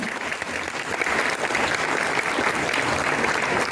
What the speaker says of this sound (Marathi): आणि म्हणून तुमच्या शाळेसाठी तुम्ही जोरदार टाळ्या वाजवावा असं मी म्हणते.